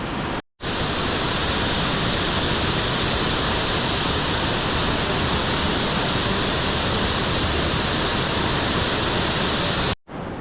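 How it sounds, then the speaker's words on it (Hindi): Water seeps and flows continuously beside a flood-damaged hotel on a riverbank, a loud, steady rushing wash with no voices, broken only by short dropouts near the start and end. "यहाँ से कंटिन्यू पानी का रिसाव हो रहा है"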